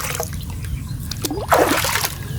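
Feet dipped into a cold stream, giving a trickle of water and then a brief close splash and slosh near the end over a low background rumble.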